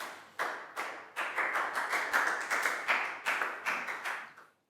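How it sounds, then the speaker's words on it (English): A small classroom group claps in a quick burst for a student during an English lesson, with uneven, clustered handclaps close by that stop abruptly. "High five and a big round of applause for Pangpon, guys."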